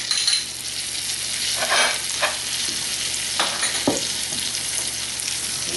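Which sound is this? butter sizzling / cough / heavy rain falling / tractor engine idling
butter sizzling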